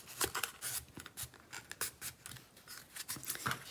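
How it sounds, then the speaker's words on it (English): Scissors snipping a Super Mario fire flower cake topper piece, a series of separate crisp cuts with short pauses between them, close and fairly quiet. "I'm just gonna bend it and cut it"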